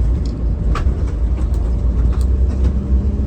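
A Trans Setiawan JB5 tour bus rolls past on an Indonesian road, a loud, close, continuous engine rumble and tyre roar with no talk.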